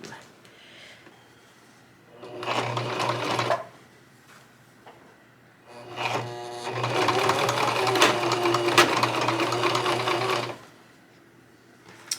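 A sewing machine top stitches around a kids' apron in two bursts, one short run and then a longer, steady stitching run, with a soft motor hum between them and a small click at the end.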